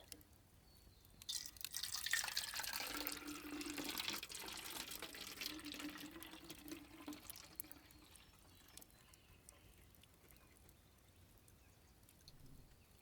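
Water runs softly into a kettle, a faint close trickle and splash that swells for several seconds, then tapers off into quiet.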